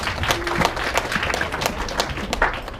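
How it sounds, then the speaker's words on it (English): A graduation audience claps for an honoree, scattered, uneven applause with individual hand claps standing out against a busy room murmur. "Can we please give her a big round of applause as well?"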